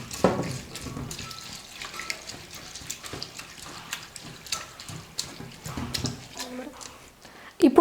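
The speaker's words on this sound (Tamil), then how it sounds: "கொஞ்சமாக தண்ணி சேர்த்து ஒரு 2-3 முறை நல்லா அலசி ஊற்றிக்கலாம்" Water splashes and sloshes in a bowl as flattened rice (poha) is rinsed by hand in a kitchen, close and intermittent, with someone speaking over it.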